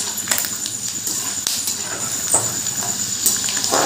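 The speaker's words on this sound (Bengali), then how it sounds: "এবার বাদামগুলো ভালো করে ভেজে নেব।" A handful of peanuts frying in oil in a pan, a close crackling sizzle broken by stirring scrapes and small knocks, uneven and busy over a few seconds.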